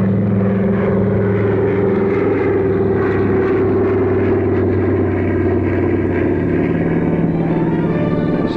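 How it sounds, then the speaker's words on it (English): An airplane taxiing out from the terminal at an international airport in New York: a loud, steady engine drone with a constant low hum, sustained and unbroken throughout, with no voices. "While we watched Sally's plane taxi out from the terminal at International Airport"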